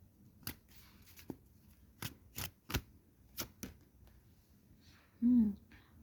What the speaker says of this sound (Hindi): 6 कार्ड निकालेंगे हम।